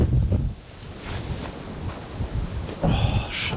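Wind gusts hard against the microphone while hiking in Mallorca, with loud buffeting bursts at the start and again near the end and a steadier rushing roar between them.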